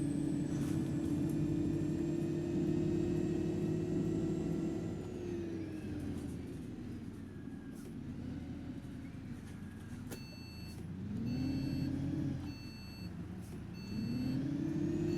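A simulated ADL E200 MMC 11.5m single-decker bus of First West of England in Bath pulls away and accelerates, its diesel engine droning steadily and rising in pitch through gear changes, with faint electronic beeps over the engine noise.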